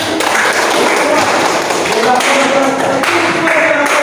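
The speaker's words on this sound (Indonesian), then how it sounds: "Oke, terima kasih tepuk tangan ya." A class of students in an Indonesian classroom giving a round of applause, a loud, dense burst of clapping that fills the whole stretch, with some voices mixed in.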